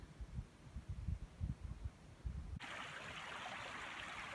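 Low rumbling thumps give way to a steady, broad rush of flowing stream water that carries on evenly without pause.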